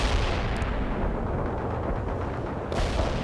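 Battle sound from World in Conflict, a Soviet assault with gunfire and artillery, makes a steady, dense rumble of distant shots and booms, loud and unbroken, with no voices.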